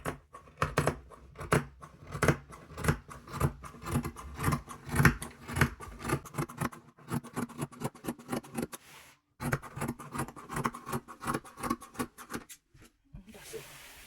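Scissors cutting fabric for an agbada kimono bubu, a close rhythmic series of snips and crisp slicing strokes with a short pause midway.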